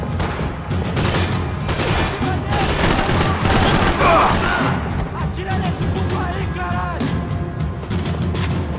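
Heavy gunfire in Max Payne 3, dense overlapping shots and rapid bursts filling the whole stretch, loud and close, with a voice briefly heard in the mix.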